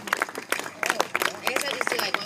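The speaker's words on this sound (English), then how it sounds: "It's okay, you can clap" A small audience claps after a spoken-word poem, scattered uneven handclaps mixed with voices and chatter throughout.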